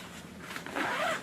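A zipper on an Osprey packing cube is pulled in one quick, close rasp that lasts about a second.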